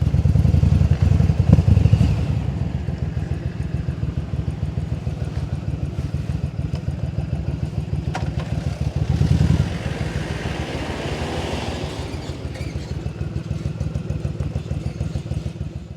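Yamaha Drag Star 1100 cruiser motorcycle on its stock exhaust idles with a steady, close, lumpy V-twin throb, giving a couple of brief throttle blips along the way.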